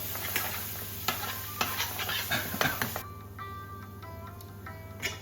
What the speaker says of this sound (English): now I will add the paste which we have made earlier and cook them well